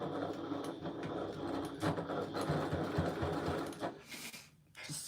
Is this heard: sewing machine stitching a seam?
yes